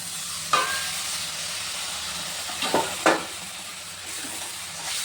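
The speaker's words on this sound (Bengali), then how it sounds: "এরপরে আমি সামান্য একটু জল দিয়ে দেবো।" Water poured into sizzling spiced masala in a pan while cooking Bengali eggplant kalia: a steady hiss of frying with a few sharp bursts of sputtering as the water hits the hot oil, no talking.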